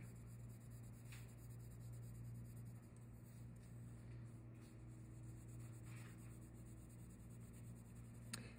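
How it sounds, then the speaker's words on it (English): Soft, close scratching of a pencil coloring on paper in small circular motions, a faint continuous rubbing with slight rhythmic swells and a few brief sharper strokes, heard alone. "And I'm coloring in these little circular motions."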